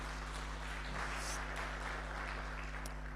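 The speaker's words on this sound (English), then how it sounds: "Can I have a clap for that?" Audience at a public leaders' alumni network gathering clapping, faint and distant, a soft continuous patter over a low constant hum.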